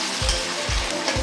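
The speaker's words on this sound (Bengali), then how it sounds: "আলু, পেঁয়াজ, বরবটি সব একসাথে ভাজা করে নিতে হবে" Potato, onion and long beans frying together in a pan give a loud, continuous sizzle, broken by three regular stirring strokes that scrape and churn the oil.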